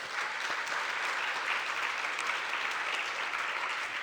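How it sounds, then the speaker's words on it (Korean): A church congregation at a Sunday service breaks into steady, sustained applause, a dense wash of many hands clapping at an even level throughout, with no talking over it. "하나님께 일단 영광의 박수 올리고요"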